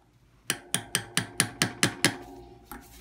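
Blunt chisel tapping a bicycle rear hub dust cover into place: eight sharp, evenly spaced metallic taps in quick succession, then a pause and one more, close and clear with no talk.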